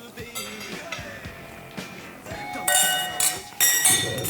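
Glasses clink together in a toast during a meal, with a few bright, short chimes in the second half after quiet murmuring and small table noises.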